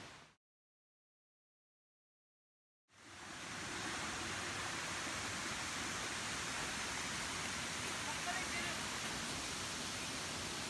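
Fudo waterfall in Aoya, Tottori, near a temple, pours as a steady broadband roar that bursts in after a short silence and holds loud and constant to the end.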